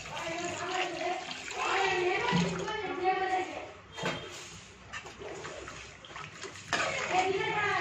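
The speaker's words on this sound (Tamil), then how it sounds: "இதெல்லாம் தேவையான அளவுக்கு தண்ணி விட்டுக்கோங்க" Water pours and splashes into a pan of tamarind garlic gravy for poondu kuzhambu, a steady wet rush lasting throughout while someone talks over it.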